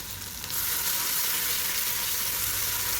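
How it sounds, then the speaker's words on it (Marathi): Masala mixture hits hot oil and sizzles loudly, a steady bright frying hiss that swells up after a brief quieter start and holds on alone without talk. "तेलामध्ये घालून घेतला की छान असा फ्राय होतो।"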